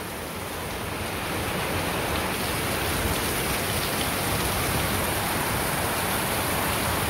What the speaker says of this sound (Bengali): অনেক সুন্দর বৃষ্টি হইতেছে আর কি